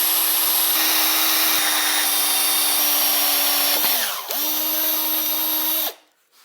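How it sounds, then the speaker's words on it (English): A power drill bores a pilot hole, running loud and steady up close with a high whine, dipping briefly as it slows and restarts, then spinning down and stopping; no talking is heard. "let's start drilling our pilot hole first"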